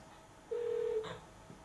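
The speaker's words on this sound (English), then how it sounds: "Click on the main phone handset and let's call Hank Johnson" A single steady electronic tone sounds from a phone handset for about half a second, then a brief higher chirp follows. The setting is quiet and there is no talking.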